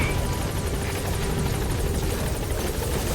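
Support helicopter from Metal Gear Solid V arriving at the landing zone, a steady loud rotor drone with rapid blade chop throughout, close and continuous without pause.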